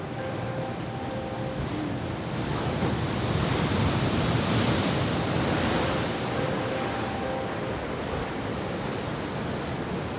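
Ocean surf rolls in at Cocoa Beach Pier on Florida's Atlantic coast, a steady, loud, broad wash of breaking waves that swells slightly in the middle, with no voices.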